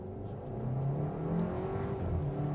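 A 2024 Hyundai Kona N-line Ultimate in sport mode builds revs against the brake for a launch: a close, steady engine drone that swells and holds, with no talking.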